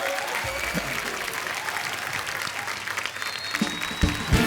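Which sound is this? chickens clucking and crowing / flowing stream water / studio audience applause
studio audience applause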